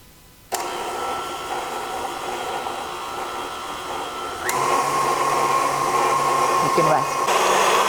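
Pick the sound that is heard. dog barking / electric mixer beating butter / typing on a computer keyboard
electric mixer beating butter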